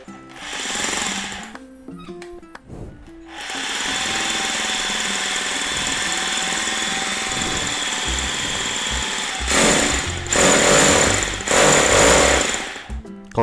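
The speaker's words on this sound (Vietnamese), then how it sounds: "Chức năng khoan búa." Corded Bosch power drill switched to hammer-drill mode, a loud, rapid rattling hammer buzz that starts and stops in short bursts, then runs steadily for several seconds before a couple of further revved bursts near the end, with no talking.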